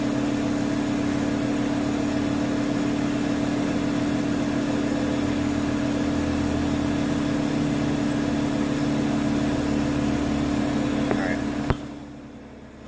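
An air compressor hums steadily with a strong low drone, running continuously for about twelve seconds before cutting off abruptly with a brief clunk, leaving quieter room tone.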